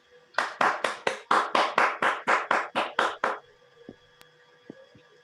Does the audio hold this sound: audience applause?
yes